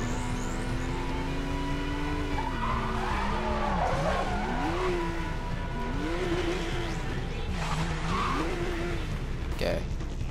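A car drifting in Need for Speed: Most Wanted (2012), with steady engine drone and repeated wavering tire squeals sliding up and down in pitch, loud and continuous, while a voice talks over it.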